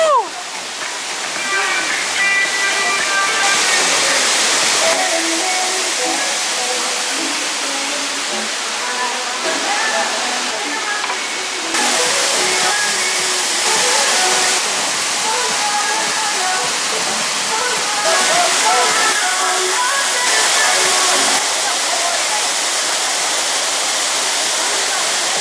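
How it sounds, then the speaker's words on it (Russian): A mountain waterfall near Alanya, Turkey roars as a steady, loud broadband wash of falling water that holds for the whole stretch, with faint voices beneath it. "а сейчас мы приехали на какой-то водопад"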